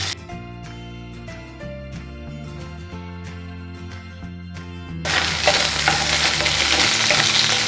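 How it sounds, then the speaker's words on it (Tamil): Boiled potatoes sauté in a hot pan while being stirred, a loud, broad frying sizzle that starts abruptly after several seconds of tonal background music. "எல்லா பக்கமும் கொஞ்சம் ப்ரௌனிங் வர வரைக்கும் ஒரு 2 நிமிஷம் நம்ம வதக்கிக்கலாம்."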